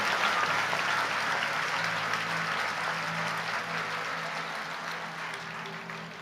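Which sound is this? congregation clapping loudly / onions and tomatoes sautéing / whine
congregation clapping loudly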